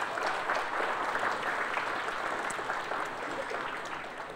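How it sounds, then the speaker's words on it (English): A dinner audience at a chocolate experience gives the servers a steady round of applause, dense and fairly close, sustained evenly from start to finish with no voices on top. "So a round of applause for your servers tonight."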